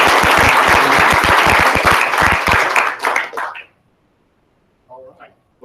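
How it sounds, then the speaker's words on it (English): Loud audience applause at a school district board of education meeting honors a group of students, dense clapping that thins out and stops partway through, followed by a brief faint sound. "So if we could give them a round of applause."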